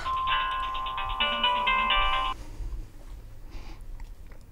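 A mobile phone rings with a melodic electronic ringtone for an incoming call from a father, playing a bright repeating tune for about two seconds before cutting off, leaving quiet room tone.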